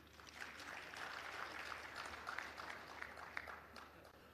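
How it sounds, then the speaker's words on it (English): An audience at a taxi industry gathering applauds, a faint and distant patter of clapping that holds steady throughout, with no talk over it. "Clap hands."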